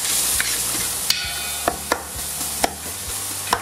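Onions browning in a pan for a beef shank braise, a steady frying hiss running throughout with several sharp clinks and scrapes of a utensil stirring against the pan at irregular intervals.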